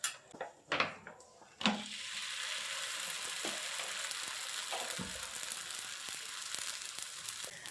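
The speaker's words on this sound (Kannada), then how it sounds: "ಹೋಳಿಗೆ ರೆಡಿ ಆಗ್ತಿದೆ ಇವಾಗ" Holige, a sweet flatbread, cooking on an oiled pan for the Ugadi festival: a few soft knocks and thumps at first, then a steady, even sizzle that continues close by.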